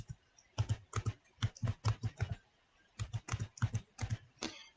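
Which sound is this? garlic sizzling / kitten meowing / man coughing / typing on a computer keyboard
typing on a computer keyboard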